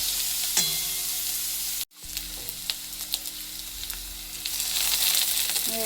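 Boiled potatoes sizzle steadily in a pan with onion, garlic, ginger and chili, a soft continuous frying hiss with occasional stirring scrapes and a brief cut partway through.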